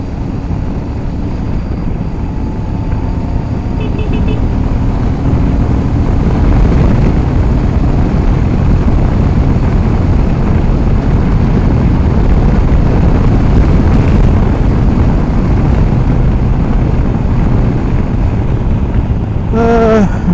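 A Super Meteor 650 motorcycle cruises along an open road, its steady engine drone blended with heavy, continuous wind rush across the microphone, loud and unbroken throughout.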